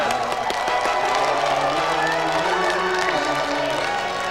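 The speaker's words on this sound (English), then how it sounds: "Another round of applause then for Joel, Hatim and Gordon." Sustained applause from a large TV studio audience on the GamesMaster show, steady clapping with some cheering mixed in throughout.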